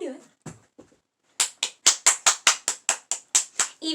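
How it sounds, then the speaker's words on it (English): A person claps their hands about a dozen times in a quick, even rhythm, close and sharp, after a few brief spoken words at the end of a children's story reading. "I have to clap."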